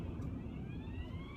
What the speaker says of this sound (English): Just ambulance,